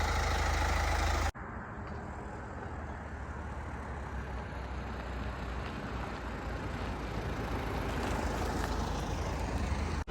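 A 2.2 CRDI diesel Hyundai Santa Fe rated at 145 kW, with about 123,000 km on it, on a test drive. A sudden cut gives way to steady, loud road and engine noise from the cabin, with no voices.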